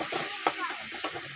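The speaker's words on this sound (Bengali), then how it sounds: "মশলাটা একটু ভেজে নিলাম, নিয়ে এই যে এবার আলুগুলোকে ভালো মতো কষিয়ে নেবো।" Potatoes fry with spices in a pan, a steady sizzle with soft stirring scrapes in this short stretch.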